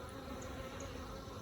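Upset honeybees buzz around hives damaged in a bear attack, a thick, constant drone heard up close without talk.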